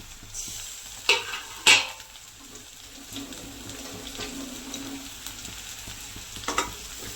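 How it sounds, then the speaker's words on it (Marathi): Smashed eggplant frying with chili and onion for a Maharashtrian bharit, a steady low sizzle with a few sharp scraping clinks of a spoon stirring against the pan, no voices. "आता आपण त्याच्यामध्ये हे जे 2 वांगे स्मॅश करून घेतलेले आहे ते टाकूया."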